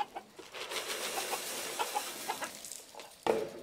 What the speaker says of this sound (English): all these other ducks and chickens showed up thinking they're gonna eat.